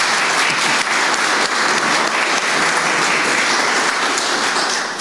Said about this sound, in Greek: αξίζει ένα τριπλό χειροκρότημα